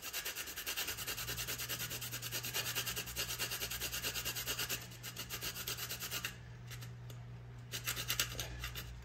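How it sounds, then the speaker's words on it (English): Whole nutmeg grated by hand for rice pudding, a steady run of quick, soft scratchy strokes in a fast rhythm, close and fairly quiet, with a low hum beneath. "we're gonna grate a fourth of a teaspoon of nutmeg"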